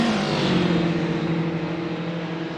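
A Renault Clio 16s race car passes at Mallory Park circuit with a loud, steady engine drone that fades slightly as it moves away.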